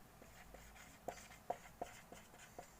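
Pen writing on paper while a ray diagram for a concave mirror is labelled, faint close scratching strokes with a few sharper taps in a quiet room.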